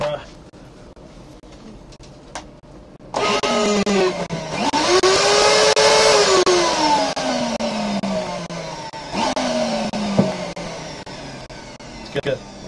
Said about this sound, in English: Can you turn the vacuum on?